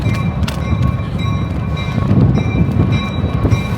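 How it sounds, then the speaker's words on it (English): A train passes close by, loud and continuous, with a heavy rumbling roar of rolling wagons, clattering wheels and sharp metallic ticks, plus faint high steady tones from the rails or horn. "Oh, here comes the train."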